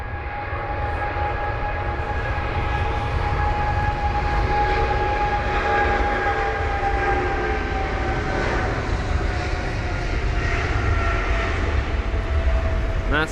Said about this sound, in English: That's the British Airways Boeing 777-200ER